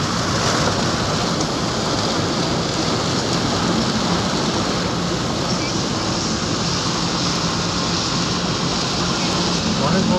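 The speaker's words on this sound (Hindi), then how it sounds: "उधर से कम हो रही है यहाँ पे बारिश" Heavy rain pours steadily on a highway near Agra, a dense, continuous wash of noise heard from inside a vehicle, loud and unbroken throughout.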